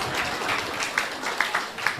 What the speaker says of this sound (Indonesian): Tepuk tangan dulu yang HKBP.